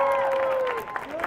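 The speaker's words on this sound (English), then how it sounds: "So let's give him another round of applause." Applause from the audience at a charity benefit concert, a steady wash of clapping with some crowd noise, heard under a voice with a tonal, sliding pitch at the start that fades out.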